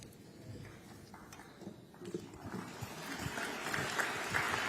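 Clapping at the close of a press conference at the COP28 summit, starting faint and quiet and swelling somewhat louder toward the end, with a brisk patter of hand claps in a room.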